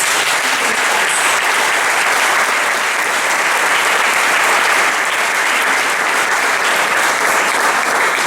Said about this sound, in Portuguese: Dê um aplauso a esse Deus.